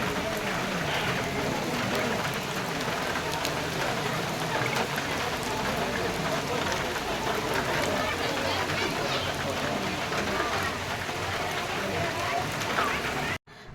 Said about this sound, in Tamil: அப்போவே மழை வந்துடுச்சு